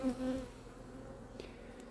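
Honeybees buzzing at an opened hive during a brood inspection, a steady droning hum with a brief louder pass of a bee nearby at the start, close and continuous.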